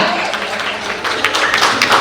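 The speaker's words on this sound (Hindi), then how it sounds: "वाह, जोरदार तालियां" An audience breaks into steady, dense applause that fills the whole moment, close and fairly loud, with no voices standing out.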